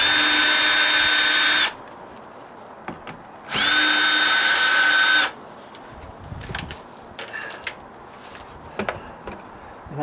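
A power drill drives screws through layers of old half-inch OSB plywood onto a dry-rotted stucco column, two loud whirring bursts of about two seconds each with quiet handling and tapping between them.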